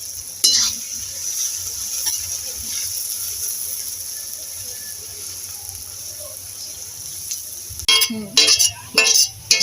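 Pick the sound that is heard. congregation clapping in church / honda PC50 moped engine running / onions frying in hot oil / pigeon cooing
onions frying in hot oil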